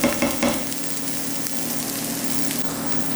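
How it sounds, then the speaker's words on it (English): Shallots sautéing in a pan, a loud steady close sizzle with a few stirring knocks at the start, then an even frying hiss to the end. "I'm going to saute these off for a bit"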